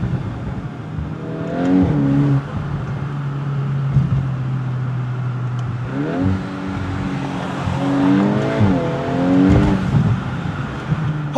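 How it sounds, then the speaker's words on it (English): Volkswagen Golf R Black Edition, a 2025 car with the optional titanium exhaust, revs steadily with rising and falling engine tones and a few crackling pops, close and fairly loud throughout. "The optional titanium exhaust, although still not quite as loud as the Elantra N, does give you plenty of pops and bangs"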